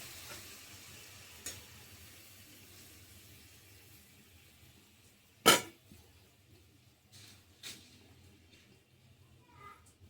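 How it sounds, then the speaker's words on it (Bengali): Marinated hilsa fish fries in oil in a wok with a faint, steady sizzle, broken by a sharp clatter midway and a few softer knocks. "কড়াইয়ের মধ্যে মাখানো মাছটা দিয়ে দিলাম।"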